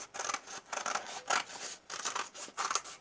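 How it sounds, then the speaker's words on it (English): Scissors snip through a stack of paper shapes for a first-grade collage, about six quick crisp cuts in an even rhythm, close and isolated with no talking. "Now I'm going to take my scissors and I'm going to cut out on the line."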